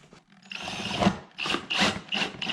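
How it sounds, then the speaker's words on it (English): A drill snugs screws into the plastic ZR1 front splitter on a C7 Corvette Stingray, heard as several short, close whirring bursts with brief pauses between them. "we're going to use a drill, but we're not going to reef these screws down"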